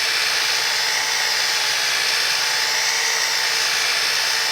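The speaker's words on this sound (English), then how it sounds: "Lift up on the polisher a little bit, let it speed up on its own, and then kick it a little more speed." Power polisher sanding body filler on a 1950 Chevy truck, a steady high-pitched whirring drone held at constant speed, close and loud, with no talking.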